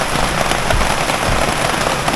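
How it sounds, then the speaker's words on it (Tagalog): Steady heavy rain pours down outdoors during a carp fishing trip at a large pond, a dense loud hiss with no break and no voices. "Ulan lang yan, bro."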